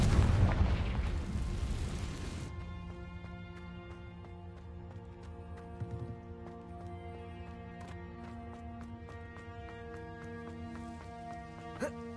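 Confringo fire spell explosion in the Hogwarts Legacy video game, a loud burst at the start fading into a noisy rumble, then quieter sustained tones with small clicks.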